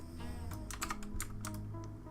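Fast, light typing on a computer keyboard, a quiet run of irregular key clicks with small pauses, heard close and alone without any talk.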